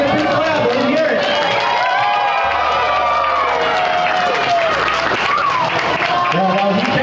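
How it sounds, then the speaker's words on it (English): Loud crowd applause and cheering at a fire department open house for a firefighter reaching the top of a climb, continuous clapping mixed with shouting voices, children among them. "He made it. Give a big clap."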